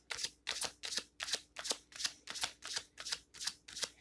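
A tarot deck, the Everyday Witch Tarot, is riffle-shuffled in a steady run of about nine crisp bursts, one roughly every half second, close and clear with no talking.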